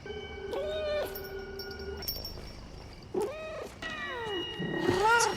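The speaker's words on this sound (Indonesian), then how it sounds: "Elliot mendengar suara kucing dari area kolam" A cat meows repeatedly beside a pool, several drawn-out, rising and falling cries spaced over a few seconds, fairly close and clear, with the last calls louder and more strained.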